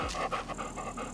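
A dog panting rapidly at a fishing spot by the water, close and steady quick breaths in a continuous rhythm with no voices.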